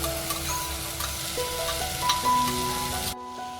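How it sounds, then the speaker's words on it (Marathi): Masala paste sizzles and fries steadily in a pan for a prawn dish, close and continuous with faint stirring scrapes, before cutting off abruptly near the end. "इकडे आपला वाटण वगैरे व्यवस्थित परतून झालेलं आहे"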